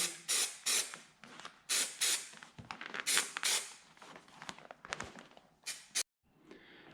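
Repeated short hissing bursts from an aerosol can of spray adhesive, fairly close, in a quick irregular rhythm with brief pauses between sprays and some faint handling, while replacing a 1966 Corvette C2 dash pad skin.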